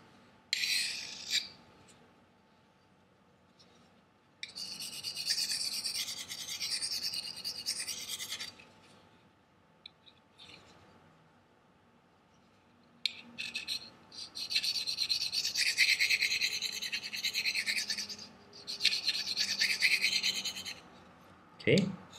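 A kitchen knife is drawn through a handheld sharpener, including a ceramic slot, in repeated gritty rasping strokes that come in bursts of several seconds separated by quiet pauses, close and fairly clear.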